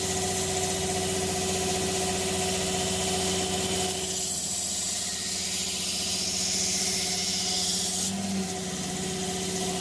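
A grinder runs at 2800 RPM while putting an edge on a small lightweight neck knife blade. It gives a steady, moderately loud motor drone with a constant hum and some vibration, and the tone shifts slightly partway through.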